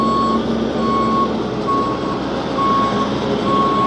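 A large truck reverses at a rural homestead during well digging, its backup alarm beeping in a steady, evenly spaced rhythm over a loud, constant diesel engine rumble.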